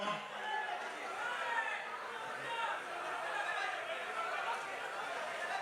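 A large audience at a film pre-release event keeps up continuous shouting and cheering, a dense steady roar of many voices with no pauses.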